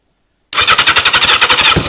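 A Yamaha XJ750 scrambler with a custom exhaust fires up after half a second of silence and settles into a loud, close, rapid pulsing idle with a steady throb.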